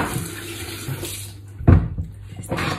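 Cold water runs from a kitchen tap into a large pot, a soft hiss of flow that breaks into a sharper splash partway through and then continues, close and moderately loud, with no talking.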